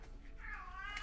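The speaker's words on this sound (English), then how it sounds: "Please excuse my Siamese cat who is agreeing with whatever is coming up here apparently." A Siamese cat gives a faint, drawn-out meow with a brief sharper cry at the end, heard quietly and alone.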